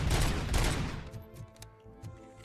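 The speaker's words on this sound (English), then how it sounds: "If I can't shoot your face off," A burst of gunfire in RoboCop: Rogue City: a rapid volley of loud shots at the start, then sparser scattered shots trailing off into quieter echoes.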